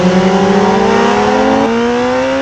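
A racing motorcycle engine screams loud and close at full throttle on a track at Cremona, its pitch climbing steadily before a brief dip as the rider backs off for braking.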